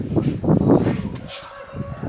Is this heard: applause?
no